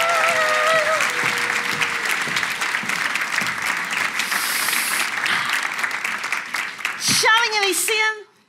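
Loud, sustained audience applause fills a live storytelling event in Riga, steady and dense for several seconds before a person briefly speaks near the end and the clapping cuts off.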